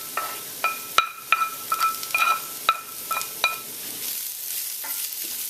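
Roasted potatoes get tossed with onions and garlic, a metal utensil striking the pan in a quick series of sharp, ringing clinks over a light sizzle, close and clear, then tapering into softer scraping.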